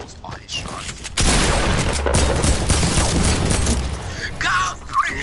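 Gunfire in the Fortnite video game: a rapid, dense burst of shots rattles out for a few seconds at close range, then tapers off, while players chatter over the action.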